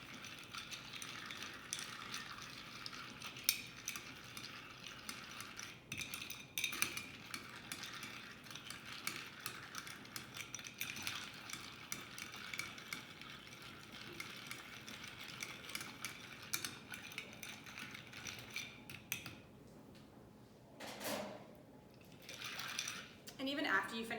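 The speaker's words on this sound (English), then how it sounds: "you're going to stir it for a pretty good amount of time" A bar spoon stirs a cocktail over ice in a mixing glass, giving a faint, steady clinking and rattling of ice against glass that runs on for a long stretch, with occasional louder knocks.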